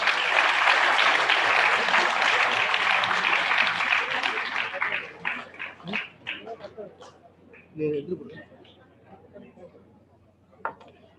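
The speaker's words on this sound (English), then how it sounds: "Audience, please cheer up." An audience at an engineering college ideathon prize announcement claps in a loud, dense burst that thins over a few seconds into scattered claps, with voices and murmurs carrying on afterward.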